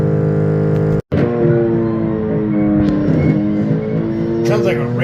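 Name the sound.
toy motor straining loudly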